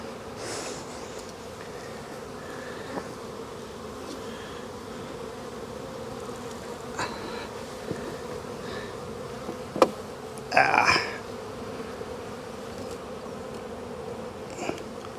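Honeybees buzz steadily around an open hive while it is split into new colonies, a continuous near drone with a few brief louder knocks and clatters of hive parts partway through.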